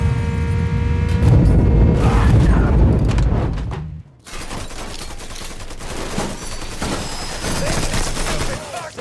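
Gunfire in the video game Mafia 3: dense, loud bursts of automatic fire and shots in a chaotic firefight, broken by a sudden near-silent gap, then continued rapid popping shots with voices shouting underneath.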